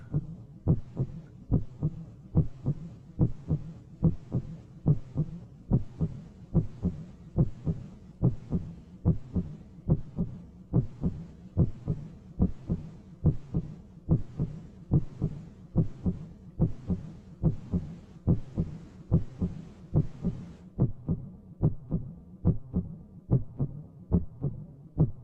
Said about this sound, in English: This is the one with the imposing heartbeat.